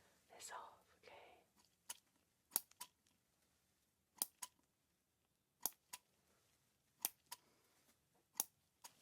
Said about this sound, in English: I'm just going to very gently just snip this off, okay?